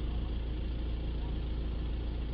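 A VW Touran 2.0 TDI diesel with a blocked particulate filter idles steadily, a low, even engine drone that holds close and constant throughout.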